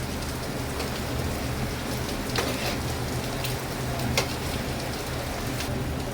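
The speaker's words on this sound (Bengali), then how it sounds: "মিষ্টিগুলো কিন্তু একটা একটা করে আমি উল্টাতে থাকবো, যেহেতু তেলটা আমার গরম আছে" Carrot pantua sweets fry in hot oil with a steady, dense crackle and hiss, broken by occasional sharper pops, and no voices.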